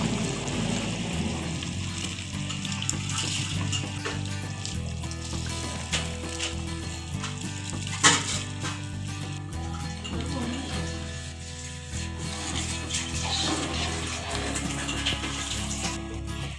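Water bubbles and churns at a boil up close while rice grains patter into the pot, with a brief clink of metal partway through.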